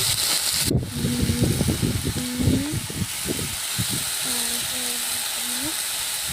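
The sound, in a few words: garlic, black cumin and chili frying in a pan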